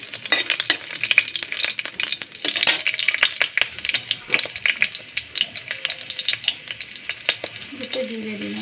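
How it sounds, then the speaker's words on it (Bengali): Three chilies crackle and sizzle in hot oil in a kadai, a busy, close spitting fry with sharp pops throughout and a brief scrape of stirring near the end. "আমি কড়াতে প্রথমে তেল দিয়ে নিলাম, 3টে লঙ্কা দিয়ে দিলাম।"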